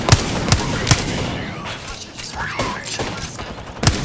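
Gunfire from the video game Apex Legends, a burst of sharp shots at the start, a short lull with quieter shots, then a final loud crack near the end, over a steady bed of game noise.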